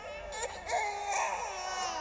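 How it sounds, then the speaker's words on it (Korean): An infant's crying wail, continuous and fairly close, rising and falling in pitch over a soft hiss as an eerie sound effect in a spoken ghost story. "애기 우는 소리가 들려서 고마 미치겠다."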